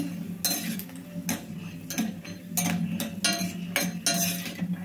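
Cashews and almonds roasting in a pan are stirred with a metal spoon, giving repeated scraping strokes and clinks against the pan in an uneven rhythm over a low steady hum, close and with no talking.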